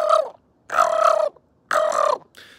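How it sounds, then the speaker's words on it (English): Turkeys gobble at feeding time on an island, in three loud, close bursts separated by short pauses, with a fainter fourth call trailing off at the end. "Lincoln Kane, I think he's starting to feed the turkeys, okay?"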